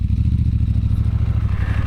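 A Triumph Scrambler 1200 XE rides over light off-road terrain, its twin-cylinder engine thumping in a fast steady pulse up close, with rattling and gravel clatter mixed in.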